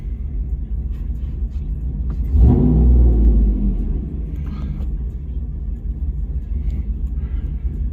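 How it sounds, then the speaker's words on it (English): Inside the cab, a car fitted with an AWE exhaust, longtube headers and a cam idles with a deep, steady low rumble, briefly swelling into a louder throaty surge before settling back to idle. "so let's see what it is at idle in the cab, just chilling on idle."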